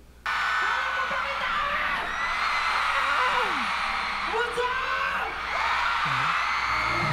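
A large crowd at an outdoor music festival screams and cheers continuously at high volume, a dense roar of voices with occasional whoops rising above it.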